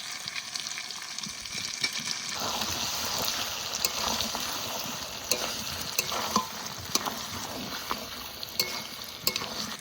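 Fried ash gourd tipped into a sizzling duck meat curry and stirred, a steady loud frying hiss with scraping stirs and small pops throughout.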